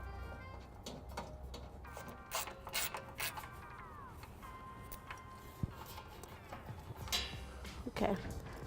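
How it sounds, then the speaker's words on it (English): An 8mm socket on a ratchet wrench removing bolts under a 2010 Ford Edge during a trailer hitch install, with rapid clicking ratchet bursts and a few metallic knocks, close, no talking. "I'll be using a socket wrench with an 8mm to remove the 3 bolts on each side."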